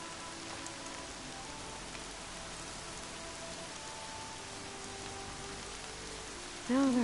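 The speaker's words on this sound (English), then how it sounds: "Rain's too loud to hear much." Steady, dense rain pours over the world of the video game Horizon Zero Dawn, a constant broadband hiss that holds level throughout, with a brief louder tonal game cue rising at the very end.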